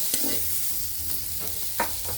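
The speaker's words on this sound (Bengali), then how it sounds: "এখন ভালোভাবে মাছ আর কালো জিরার সাথে পেঁয়াজ ভালোভাবে ভেজে নিতে হবে।" Shrimp, nigella seeds and onion fry in a pan in a rustic home kitchen, with a steady low sizzle broken by a few sharp stirring scrapes, close and moderately loud with no talking.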